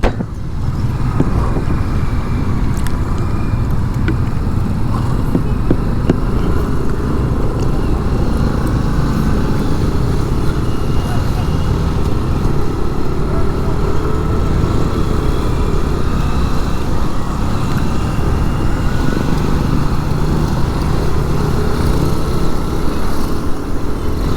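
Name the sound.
motorcycle engine running during belt maintenance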